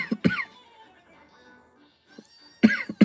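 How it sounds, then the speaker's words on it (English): A few sharp coughs close to the mic, a pair at the start and another burst near the end, with quiet between. "I've got the coughs, man."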